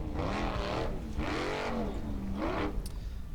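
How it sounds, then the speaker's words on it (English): Formula offroad car climbing a rocky hill course at a competition in Hella, Iceland, its engine rising and falling in three distinct revving surges, loud and fairly close, with no talk. "this is Sigurður Ingi Sigurðsson driving Yippee"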